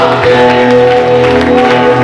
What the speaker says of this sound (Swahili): Shangilia Yesu kwa makofi na vigelegele